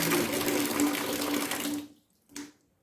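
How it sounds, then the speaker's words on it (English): A leaking mixer tap runs in a steady, close rush of water for about two seconds, then is shut off, leaving near silence broken by one short splash. "So this is when I on the tap, and when I off it, it's still leaking."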